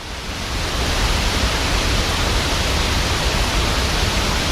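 An unnamed waterfall pours through a canyon on the West Fork of the Carson River, a steady, dense rushing roar that holds at an even level from start to finish, with nothing else heard.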